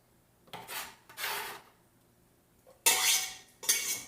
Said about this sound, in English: I am going to throw onion in this pan